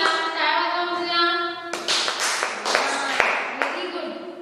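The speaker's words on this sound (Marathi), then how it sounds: "टाळी वाजवा टाळी वाजवा" A class of second-grade children in a Marathi school lesson clap their hands. A sung or chanted voice comes first, then a scattered burst of close claps.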